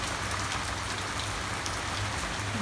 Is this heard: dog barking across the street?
no